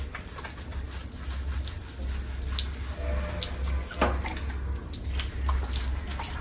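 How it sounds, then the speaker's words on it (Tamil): Water is poured over a man's head, making a continuous close splashing and running sound with irregular drips and spatters throughout. "சரி தண்ணி ஊத்தலாமா அப்பாக்கு, எப்படி ஊத்தலாம் அப்படி ஊத்துற"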